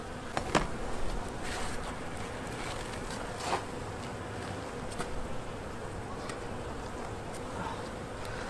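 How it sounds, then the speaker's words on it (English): Honeybees buzzing in a dense cluster on a hive frame, a steady close swarm drone with occasional louder passes of individual bees, no voices. "big cluster of bees right up here"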